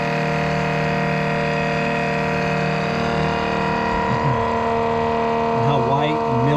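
Milwaukee 2771-20 transfer pump drawing cold, aerated, frothy oil, giving a steady loud motor whine with strong tonal hum that holds throughout, a voice talking over it toward the end.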